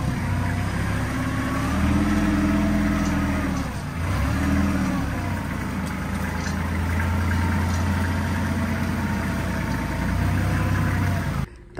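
A tractor engine idles steadily and close by, a deep continuous rumble with a brief dip in the middle before settling back to the same even throb, then cutting off at the end.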